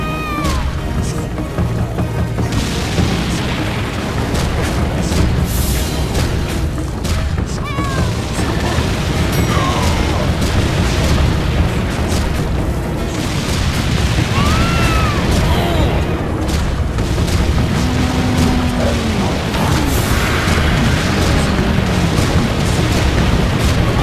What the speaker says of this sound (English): Fire them cannons